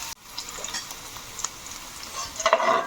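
Ginger garlic paste frying in a pan for coconut rice, a soft, steady sizzle with light stirring scrapes that grow slightly louder toward the end.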